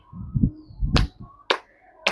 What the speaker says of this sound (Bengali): আনন্দে হাততালি দিন উচ্ছ্বাসে হাততালি দিন